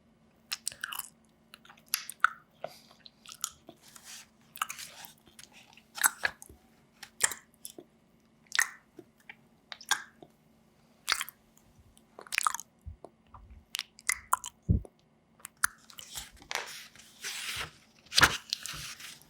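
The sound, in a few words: voice imitating a hippopotamus chewing gum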